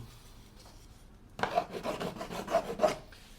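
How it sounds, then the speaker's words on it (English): A tool trimming the edge of a clay slab box, a close, steady rasping scrape lasting under two seconds, with several rhythmic strokes after a quiet start. "try to trim this edge a little bit as well"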